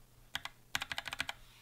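Computer keyboard keys pressed in a home studio, a couple of isolated taps followed by a quick run of about nine crisp clicks, close and clear with no talking.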